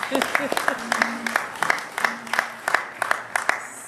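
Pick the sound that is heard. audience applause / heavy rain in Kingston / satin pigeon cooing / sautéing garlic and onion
audience applause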